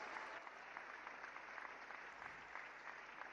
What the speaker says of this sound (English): let's welcome the dignitaries with a thunderous round of applause